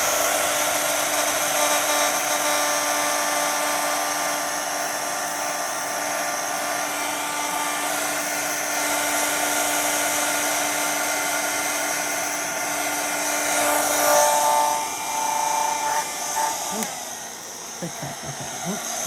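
A small handheld heat gun blows hot air with a continuous high-pitched whine close by, and near the end it shifts and cuts out briefly.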